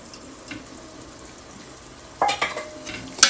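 Spoon stirring chicken masala with red chilli and coriander powder in a pan, a quiet frying hiss with a few sharp scraping clatters near the end.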